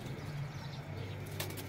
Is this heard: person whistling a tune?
no